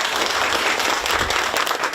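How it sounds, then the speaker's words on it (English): Applause from a packed crowd of parents at a school board meeting, a dense, loud wash of clapping that holds steady throughout. "The applause says it all."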